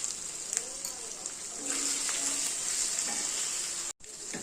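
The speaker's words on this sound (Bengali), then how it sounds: "সমস্ত মশলাগুলো কষানো হয়ে গেছে" Cumin and chili powder sauté in a pan with a close, steady sizzle broken by scraping stirs, cutting out briefly near the end.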